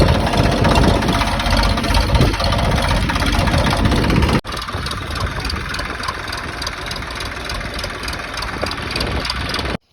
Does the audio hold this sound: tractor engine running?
yes